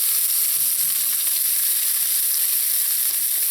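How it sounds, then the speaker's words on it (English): Scallion and pimento sauteing in oil in a pan, a loud, steady, close sizzling hiss with a brief faint tonal hum early on. "the scallion and the pimento. Just let this saute in here a little"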